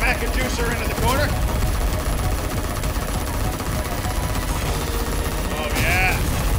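Guns firing in the shooter game Terablaster to hold enemies back: constant rapid gunfire and explosions form a dense, loud barrage, with a voice talking over it.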